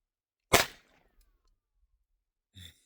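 A Ruger Mark IV 22/45 .22 pistol fired outdoors, one sharp loud crack with a short echo tail, then quiet and a fainter second shot about two seconds later.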